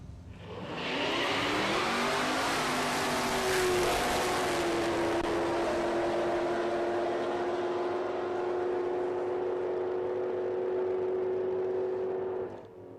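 Pontiac Grand Le Mans drag car with a 454 big block engine, accelerating off the line at a drag strip, a loud roar climbing in pitch and then holding a sustained high drone as it fades into the distance.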